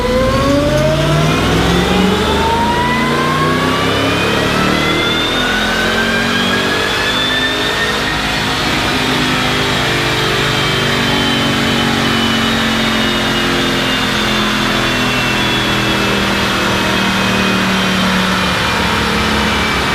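A Ford Mustang with a 3V V8 and Edelbrock supercharger pulls hard on a dyno, a loud, close, sustained roar rising steadily in pitch with a climbing supercharger whine, then holding near the top of the rev range.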